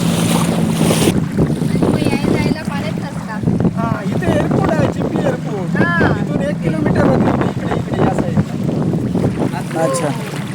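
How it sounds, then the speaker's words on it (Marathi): Boat ride on clear green water at Devbag in Malvan, Konkan, with loud constant wind buffeting, engine rumble and splashing water under continuous talk. "नक्की या देवबाग बोटिंगचा आनंद घ्या"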